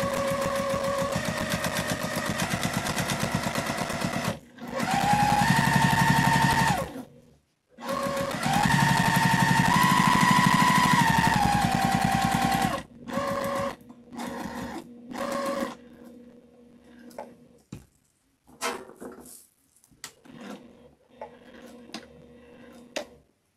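A sewing machine stitches fabric scraps into pot holders with a regular foot, running in loud rapid bursts separated by short pauses, then slowing into shorter, fainter runs of individual stitches near the end.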